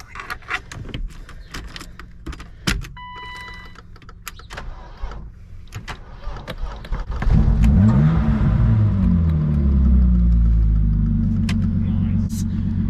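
A BMW E36 with a newly fitted chassis-mount shifter cranks and starts after a stretch of clicking and rattling, then settles into a loud, steady idle rumble close by; people talk briefly in the background.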